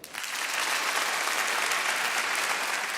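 An awards show audience applauds and cheers, a dense wash of clapping that swells in quickly and holds loud and steady throughout, with no voice over it.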